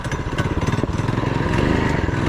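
A 6.6 HP 224cc engine swapped into a mini quad revs hard under acceleration, a loud close buzzing putter with rapid firing pulses that climbs in pitch, no talk over it.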